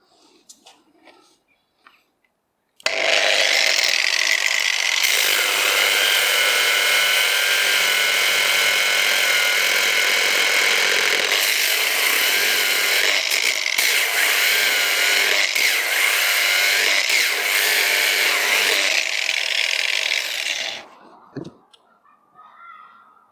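A loud angle grinder at its lowest speed setting whines steadily as it sands wood, starting abruptly after a quiet moment and running nearly twenty seconds before winding down.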